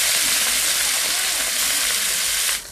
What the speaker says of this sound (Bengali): এবার আমি পরের মাছগুলোকেও ভেজে নিচ্ছি।